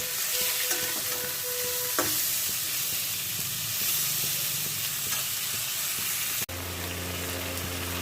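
Capsicum, tomato and potato fry in a pan for a fish curry, giving a steady dense sizzle throughout with faint stirring scrapes, close and alone, with a brief clack near the end as the frying continues.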